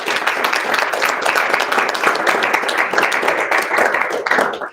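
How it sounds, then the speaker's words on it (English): An audience applauds students after their senior thesis presentations, with steady, full clapping from many hands that continues evenly for nearly five seconds before cutting off. "Students, let's give them another round of applause."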